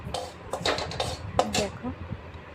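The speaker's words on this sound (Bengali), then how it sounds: "একটু জিরে আর একটু লঙ্কার গুঁড়ো শুকনো কড়াইয়ে ভেজে নিচ্ছি" Cumin and chili powder dry roasting in a wok, with utensil scrapes and clinks against the pan in short bursts, close and moderately loud, while a person talks underneath.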